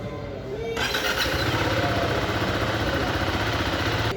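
A motorcycle engine cranks on the electric starter with the clutch lever pulled and catches, then settles into a steady, throbbing idle close by.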